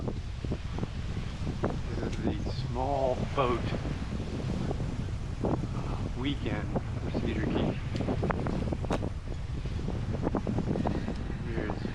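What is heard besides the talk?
wind blowing during a bike ride, wind noise on microphone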